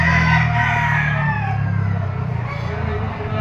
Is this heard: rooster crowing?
yes